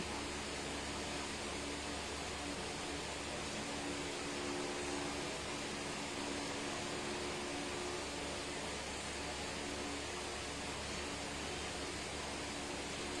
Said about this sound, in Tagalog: Kaya ginagamit ko rin yung hair dryer para mas mapabilis yung drying time.